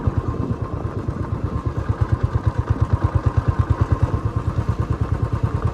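A Royal Enfield Classic 350 BS4 motorcycle engine idles with a loud, close, evenly spaced thumping beat that repeats rapidly and steadily with no talk over it.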